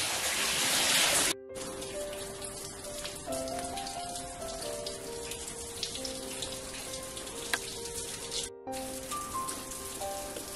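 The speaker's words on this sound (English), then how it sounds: "There's a waterfall falling down those rocks inside the cave, coming down from the top of the cave up there." Water from a waterfall pours down rocks inside a coastal cave, a steady splashing and dripping wash. Faint tonal hums run beneath it, and the sound briefly cuts out twice.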